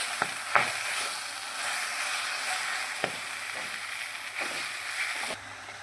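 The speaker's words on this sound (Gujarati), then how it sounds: "અને હવે આપણે પાલકને આવી રીતે થોડીક વાર ચડવા દઈશું" Spinach wilting in a hot pan while making palak paratha, a steady soft sizzle with occasional faint clicks and stirring taps, close and continuous with no talking.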